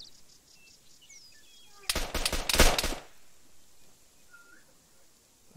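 A rapid cluster of gunshots cracks for about a second in a Tanoa video game mission, loud and close against quiet jungle ambience with birdcalls before and after.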